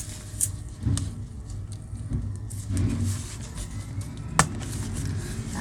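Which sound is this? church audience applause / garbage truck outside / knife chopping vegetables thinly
garbage truck outside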